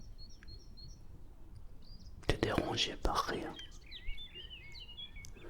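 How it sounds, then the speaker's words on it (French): Small birds chirp faintly in short, scattered calls near the start and end, set against a quiet indoor room with soft close whispering in the middle. "Mais les oiseaux, moi, ne me dérangent pas."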